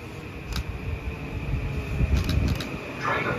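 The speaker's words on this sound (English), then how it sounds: "Train approaching." A train approaches the station at Clinton, Connecticut, producing a steady low rumble and mechanical hum that builds gradually, with faint higher hissing toward the end.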